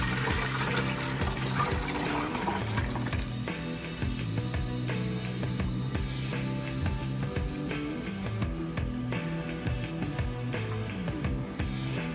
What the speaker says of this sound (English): I'm going to strain it again and put it in on the stove